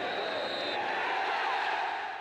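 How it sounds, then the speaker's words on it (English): A large football crowd at Swindon Town against Leeds United gives a standing ovation to the Swindon players, a steady, broad roar of applause and cheering that holds throughout, with a commentator's voice over it. "A standing ovation for Swindon's players, for whom winning is becoming a happy habit"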